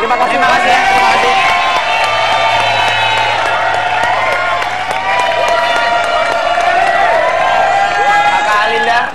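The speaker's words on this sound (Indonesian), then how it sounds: "kita kasih tepuk tangan" Studio audience at a late-night television show clapping and cheering in a loud, dense, continuous wash, with whoops and shouts mixed in throughout.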